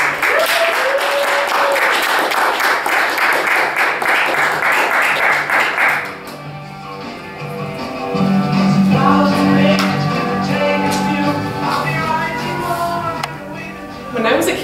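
Clapping from an audience at a Speakeasy reading for a reader's last appearance rises dense for several seconds, then gives way to a speaking voice over scattered residual sound.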